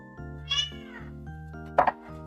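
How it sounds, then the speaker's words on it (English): A cat meows loudly twice, drawn-out yelling calls close by, over a quiet background with a sustained electronic tone. "oh, you hear my cat. My cat yelling."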